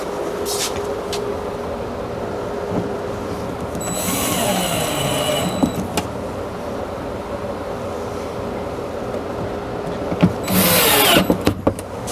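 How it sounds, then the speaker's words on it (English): A power drill whirs in two short, high-pitched bursts driving screws into pine, separated by quieter workshop handling noises and light clatter. "Since I'm drilling into pine, I don't pre-drill."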